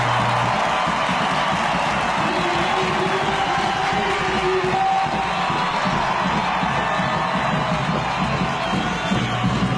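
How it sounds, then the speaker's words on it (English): An audience keeps up continuous cheering and clapping with scattered whoops and shouts, a dense crowd roar that holds steady at moderate loudness. "Everybody, let's give a round of applause to my brother, Customs by Machu."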